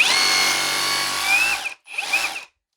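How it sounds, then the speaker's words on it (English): A Bauer cordless SDS-plus drill in hammer mode runs in two close, loud bursts with a high motor whine, the first longer, the second short after a brief pause. "That's a hammer mode, okay? That's where you're gonna chisel, right?"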